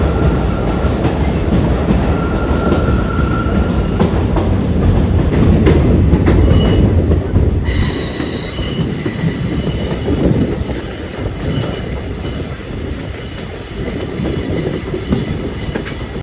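Passenger train running through a tunnel on a scenic mountain rail route, with a loud steady roar of wheels and rumble that shifts into a brighter, squealing metallic ring partway through; no talking.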